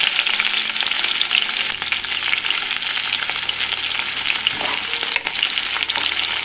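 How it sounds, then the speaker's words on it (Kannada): Onions and green chillies frying in hot oil for a home-style junka curry, a steady dense sizzle that runs the whole time with occasional stirring scrapes, close and loud, no voices. "ಚೆನ್ನಾಗಿ ಎಣ್ಣೆಯಲ್ಲಿ ಫ್ರೈ ಆಗಲಿ"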